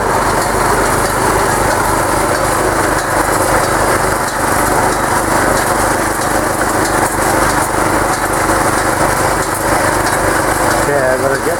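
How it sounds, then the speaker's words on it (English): A 1959 tractor engine runs steadily in a garlic field, a loud continuous mechanical drone with a buzzy, lawn-mower-like tone that holds without a break throughout. "1959 driverless tractor."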